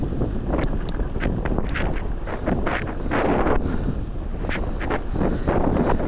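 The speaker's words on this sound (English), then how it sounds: "it is pretty windy today" Strong wind buffets the microphone outdoors during a road bike ride, a loud low roaring rumble that swells and gusts unevenly throughout.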